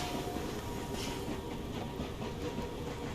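Steam excursion locomotive rolling along rails on the Fife Circle route, with a steady, dense rumble of wheels and carriage noise at even loudness throughout, no distinct whistle or chuff standing out.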